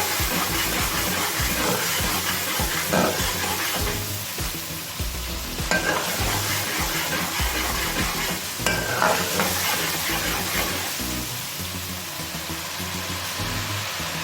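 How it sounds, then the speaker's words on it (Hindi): Two tablespoons of ginger garlic paste sauté in hot oil in a pan while being stirred, a steady close sizzle and crackle with occasional scraping of the spoon, no talking. "अब मैं सबसे पहले इसमें डालूंगी जिंजर गार्लिक पेस्ट, 2 टेबलस्पून लिया हुआ मैंने। एक मिनट इसको सौते करेंगे।"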